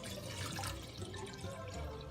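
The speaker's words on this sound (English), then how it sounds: "I cook it with the spring water as well. So I'll just pour some water in here" Spring water poured into the bottom of a steamer pot, a soft splashing, trickling pour with faint drips, quiet and fairly close, no talking.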